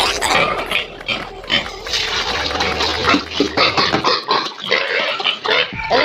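Several pigs on a pig farm in Assam grunt, snort and squeal close by while being fed grain, with wet slurping and chomping sounds throughout.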